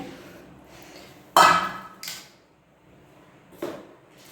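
Beef tikka pieces dropped into a pressure cooker in a home kitchen, heard as a sharp metallic clatter followed by two softer knocks and scrapes of the pot, close and without talk.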